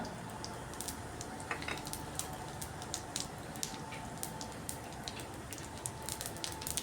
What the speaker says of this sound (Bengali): আর ফোড়নে দিচ্ছি এখানে আস্ত জিরে মেথি আর কয়েকটা শুকনো লঙ্কা